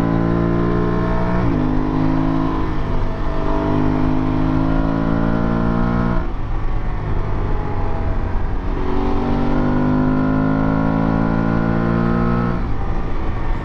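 An Aprilia Tuareg 660 motorcycle cruises along a highway, its engine a loud continuous drone that rises and falls through several gear changes and throttle swells, heard close up with steady wind roar and no talk.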